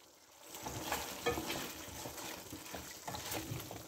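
Pulao ingredients with biryani masala frying in a pot: a soft, steady sizzle with gentle stirring scrapes, faint and close, with no voices.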